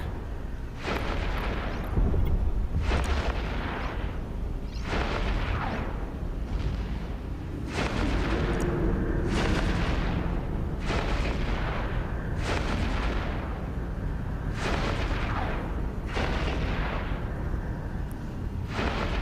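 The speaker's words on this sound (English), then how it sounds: "The effects on the turrets are wild, much better than the effects before." Ship turrets fire in EVE Echoes, a repeating series of roughly nine heavy booming volleys spaced a couple of seconds apart, each with a rumbling decay, over a constant low background rumble.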